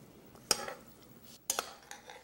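A utensil scrapes and clinks against a pot while stirring stewed corn with green onions: two sharp metallic knocks about a second apart, each followed by soft scraping, close but faint.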